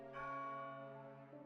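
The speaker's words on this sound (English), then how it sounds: "the church bell tolled 1, 2, 3, 4, 5, 6, 7, 8, 9, 10, 11, and with the 12th chime" A single church bell in The House in Fata Morgana rings out once, a clear sustained toll that slowly decays, with a faint second strike near the end.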